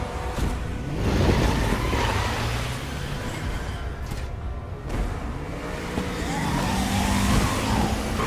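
A car engine revs and drones steadily in a video game, with rising and falling pitch sweeps as it accelerates, loud and continuous through the whole stretch, without talk.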